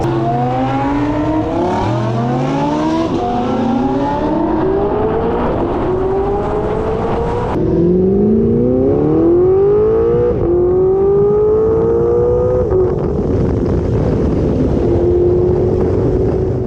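Audi R8 driving among a group of R8s, its engine revving up and down through the gears with rising and falling pitch under heavy wind noise, loud and continuous; distinct pops and crackles are hard to pick out.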